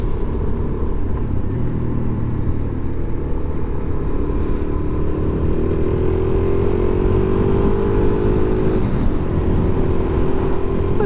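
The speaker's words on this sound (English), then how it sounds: "I think a wee bike sounds good when you're revving it on there." A Suzuki DRZ-400SM motorcycle engine revs with a steady, loud, buzzing drone that climbs gradually in pitch, with no voices, heard on country roads.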